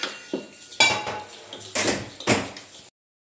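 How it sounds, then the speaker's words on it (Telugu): A spoon clatters against a bowl while banana oat pancake batter with cocoa powder is stirred, giving several distinct metallic knocks and scrapes in quick succession, close and fairly loud, before stopping abruptly. "ఇప్పుడు బాగా మిక్స్ చేసుకోవాలి"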